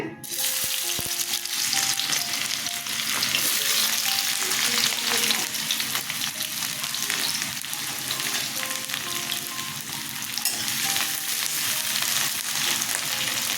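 Onions frying in hot mustard oil, a loud continuous sizzle with crackling and occasional stirring scrapes, close up and steady throughout with no talking.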